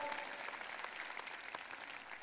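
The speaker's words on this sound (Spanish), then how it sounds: "démosle un aplauso a todos los que tienen hijos" Church congregation claps for parents with children in a brief, even burst of applause, heard at some distance and fairly quiet, sustained without a break.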